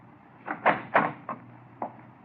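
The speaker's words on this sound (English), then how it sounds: "Open your cabin door, please." A cabin door opens as a radio drama sound effect: a string of close, hollow wooden clunks and latch rattles, two louder knocks followed by lighter thuds, with no voices.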